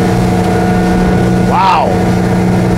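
Flexboat 680 Explorer boat running at around 21 mph and light throttle, its steady motor drone continuous beneath someone talking.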